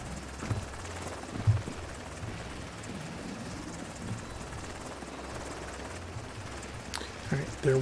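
A helicopter in the video game The Division 2 drones steadily and loudly throughout with a constant rotor rumble, joined near the end by brief scattered game noises.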